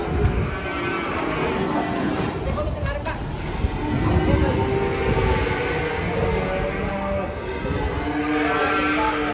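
Cattle moo repeatedly as they are unloaded from a truck amid a loud, busy crowd of voices and background noise, several animals calling at once.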